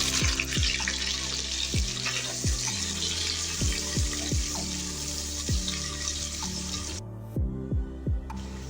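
Sliced onion frying in spiced oil for biryani gives a steady broad hiss of sizzling throughout, under a repeating low swooping hum that cuts off briefly near the end.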